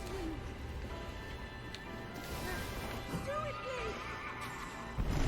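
Horse neighing in the video game The Legend of Zelda: Breath of the Wild, a few whinnies rising over busy game sounds and background noise, with hoof clatter mixed in.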